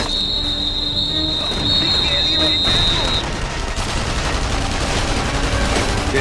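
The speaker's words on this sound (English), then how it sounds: "Gunfire!" Rapid bursts of gunfire crackle in a World War II street battle in the video game The Saboteur, dense and loud over a sustained high whistle that cuts off midway.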